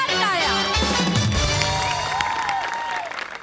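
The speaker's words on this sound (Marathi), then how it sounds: "जोरदार टाळ्या." Loud, sustained audience applause with some cheering at a Marathi comedy show award ceremony, continuing steadily throughout with music tones layered underneath.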